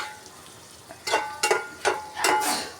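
Food fries in a pan, with a quiet background hiss broken by four or five sharp sizzling bursts as pieces are stirred or turned.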